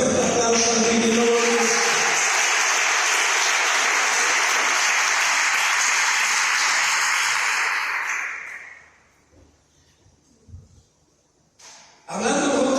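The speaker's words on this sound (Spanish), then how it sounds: "Denle fuerte aplauso al Señor." Church congregation applause during a general worship meeting, a loud dense wash of many hands clapping for about eight seconds, then fading to near silence with a few scattered sounds before noise returns.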